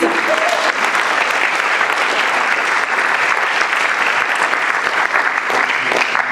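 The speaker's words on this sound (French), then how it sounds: "On applaudit Jean-Jacques Lienne, président de l'association Tchendukoa Suisse" A large crowd applauding steadily and loudly at an association's opening evening event, a dense wash of clapping that continues without pause throughout.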